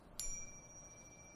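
A single struck meditation bell rings to open a guided session, with a sharp strike followed by a clear, steady tone that lingers faintly in a quiet room.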